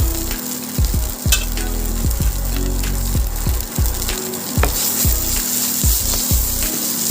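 Potatoes frying in a pan, a continuous close sizzle broken by regular knocking and scraping strokes as they are stirred.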